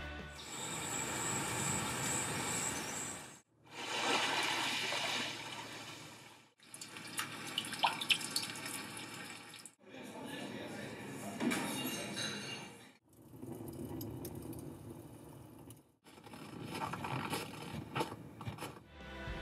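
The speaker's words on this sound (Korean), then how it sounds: "K7에 탑재되었던 자연의 소리도 적용되는데 이것도 한번 들어보시죠" The nature sound mode of a 2019 Kia Mohave The Master 3.0 diesel car audio system plays six distinct ambient recordings, some with a watery wash, each cut off by a brief silence before the next begins.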